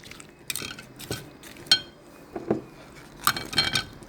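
Pineapple and apple pieces for fruit chaat being mixed in a bowl, with a spoon knocking and clinking against the dish in irregular bursts and soft wet shuffling between.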